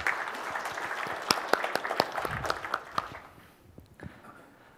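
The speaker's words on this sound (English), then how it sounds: "Please give him a warm applause." A conference audience at a Visual Studio C++ developer talk applauds in a dense burst of clapping that gradually thins and fades out after a few seconds.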